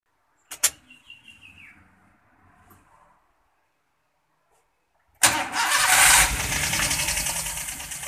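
A Daihatsu Gran Max, tested with a substitute ECU for a lit check-engine light, gives a few faint clicks and whirs, falls silent, then its engine fires up at once and settles into a loud, steady idle close by.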